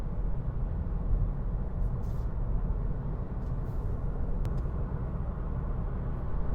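Interior road noise from a 2017 Chevrolet Cruze diesel with a manual gearbox cruising on a highway: a steady, even rumble and drone of tires and engine throughout, with no one talking.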